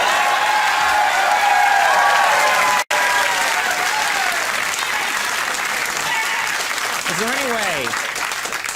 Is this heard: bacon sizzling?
no